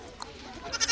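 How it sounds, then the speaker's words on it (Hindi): A goat bleats in a rural Maithili comedy scene, a short wavering cry rising toward the end of a brief clip over a faint background. "चल चलो ए बकरी"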